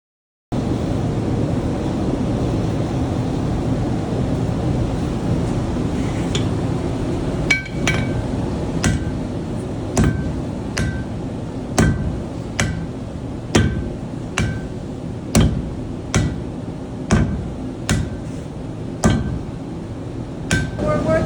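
Blacksmith striking team hammering metal, beginning as a low rumble and then settling into a steady rhythm of sharp, ringing hammer blows on the workpiece, landing about every second and fairly close.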